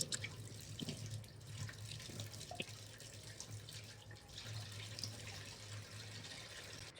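Tap water runs and splashes into a sink while a face pack is washed off, a soft continuous trickle with small splashes and drips at moderate distance; no one talks.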